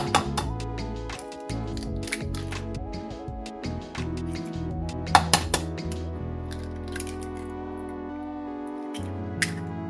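Two eggs beaten in a big dish, a utensil clinking and tapping rapidly and steadily against the dish, close and fairly quiet, with one sharper knock midway.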